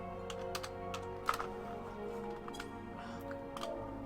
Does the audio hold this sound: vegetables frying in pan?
no